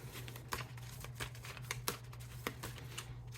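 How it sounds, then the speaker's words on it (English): A deck of tarot cards is shuffled by hand, giving a run of soft riffling snaps and repeated light slaps at an irregular rhythm, close and quiet with a steady low hum underneath. "I'm going to do one more good shuffle"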